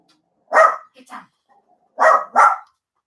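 A pet dog barks indoors during an electronics modelling session, four sharp nearby barks in two pairs with a short gap between them, loud and unaccompanied.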